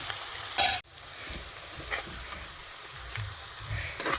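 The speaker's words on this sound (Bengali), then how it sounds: "পেঁয়াজটা ভালো করে ভাজা হয়ে গেছে" Browned onions sizzling in a pan for a meat curry, with a sharp clatter of the spoon early on and then a continuous frying hiss under irregular stirring scrapes.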